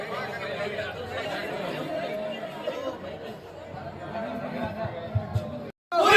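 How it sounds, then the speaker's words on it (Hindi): A gathering crowd of students at a protest, with many voices chattering and murmuring together nearby, occasional laughter, and a brief drop-out near the end. "धीरे धीरे विद्यार्थियों की भीड़ उमड़ना शुरू हो गई है।"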